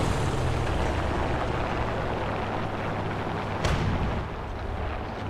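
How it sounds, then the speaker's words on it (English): Tank gunfire in War Thunder during a simulator battle with a Pz IV F1, a continuous heavy rumble of engine and distant firing, with one sharp crack near the end. "Someone's firing from up here."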